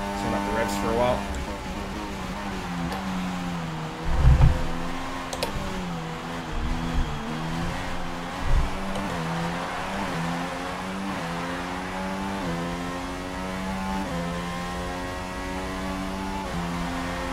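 A Renault Formula One car in the F1 2016 racing game holds a steady high-pitched engine drone with stacked harmonic whine. A few dull thumps break in partway through, and a voice talks faintly now and then.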